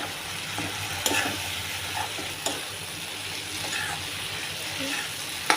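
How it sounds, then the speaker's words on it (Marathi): Fried okra is stirred into a sizzling, oily masala in a pan, with a steady frying hiss and occasional scraping clicks of the spoon against the pan. "त्यामध्ये आता भेंडी फ्राय केलेली टाकायची आणि एकसारखं मिक्स करून घेऊया"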